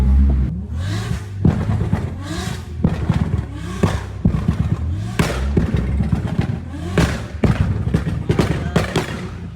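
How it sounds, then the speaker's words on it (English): A car pulls onto a highway on the way to a car show, its engine revving and accelerating, with rhythmic thumps and clatter from the road under a steady rumble. "now we're heading onto the highway to go to the car show"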